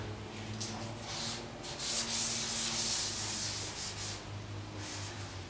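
Wet sanding on the rear hatch of a 1967 VW Bus, a continuous close rasping rub with rhythmic strokes that swell louder in the middle, heard alone without talk.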